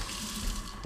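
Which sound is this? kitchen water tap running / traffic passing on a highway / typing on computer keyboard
kitchen water tap running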